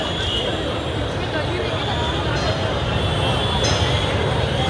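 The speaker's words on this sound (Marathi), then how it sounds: "जिथं दाखल तिथं फक्त गर्दी." Dense crowd hubbub outside Ganesh Sankul on the day of Ganpati idol arrivals, a steady wash of many voices and street noise, loud and continuous throughout.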